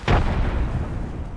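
An Apex Legends thermite grenade bursts into a loud, close, roaring whoosh of flame that hits sharply and then holds as a dense, steady burn.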